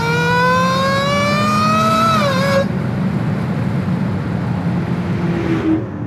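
Supercharged Hemi engine of a Dodge Hellcat revving with a loud, high whining supercharger tone that climbs and bends, then cuts off, leaving a steady lower engine rumble.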